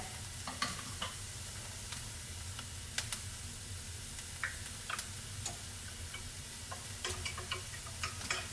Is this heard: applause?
no